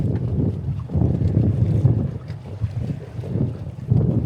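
Strong wind buffets the microphone aboard a sailboat approaching a mooring under sail on a breezy day, a steady low roar with gusty swells throughout and no voices.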